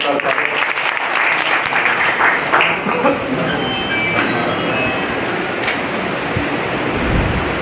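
Loud, dense applause from a large crowd at an outdoor political rally held for a garlanding tribute at the statue of Maharaja Khet Singh Khangar, sustained and steady throughout with a busy roar of clapping.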